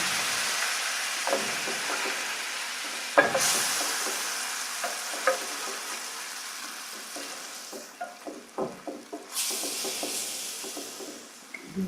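A ladle dips into simmering turkey juices in a pot, with a continuous bubbling, hissing simmer, and repeated clinks and scrapes of the ladle against the pot, some sharp and close.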